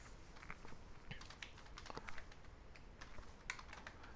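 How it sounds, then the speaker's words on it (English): Keys clatter on a computer keyboard in short irregular bursts of typing at a steady moderate level, with no talking, during an online economics lecture. "let me type"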